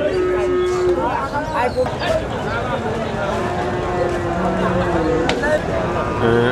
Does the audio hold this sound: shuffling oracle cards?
no